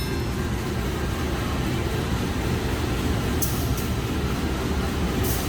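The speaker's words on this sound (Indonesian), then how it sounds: "Oke, jadi lokomotif dinasnya ini CC201." Rumble and drone from a CC201 diesel locomotive hauling the Gajahwong passenger train, heard from a seat just behind the locomotive as a steady, continuous low roar with faint higher clicks, with no voices.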